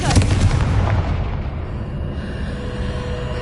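A Confringo spell blasts a stone pillar in Hogwarts Legacy, a loud close explosion with a crackling burst and rolling rumble that sustains and slowly fades.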